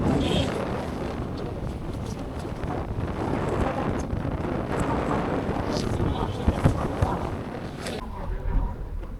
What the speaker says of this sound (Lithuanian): Stūgoje vėjas.